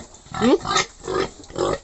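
Young piglets on a farm grunt and squeal, several close, loud bursts in quick succession, including a rising squeal, with no talking over them.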